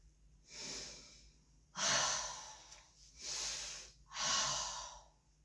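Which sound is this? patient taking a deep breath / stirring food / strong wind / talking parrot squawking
patient taking a deep breath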